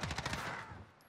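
Rapid automatic gunfire from a first-person shooter match in Call of Duty: Modern Warfare, a quick burst of shots in steady succession, fairly faint and fading out within about a second.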